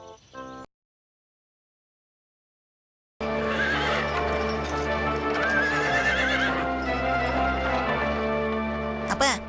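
A cartoon horse in a race whinnies and its hooves clip-clop steadily over a full, busy soundtrack, starting loud after a brief gap of silence.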